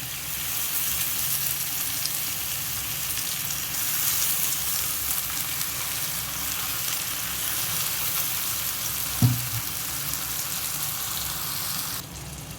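Tomato pieces and soaked moong dal frying in oil for a ridge gourd curry, a loud steady hiss of sizzling close up with one brief knock near the end.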